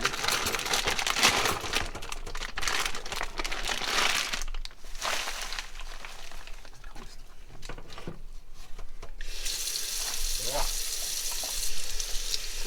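A cured ham of about 14 pounds rinsed under a running kitchen tap, with steady splashing water and crinkling, wet handling noises throughout and a brief hiss near the end.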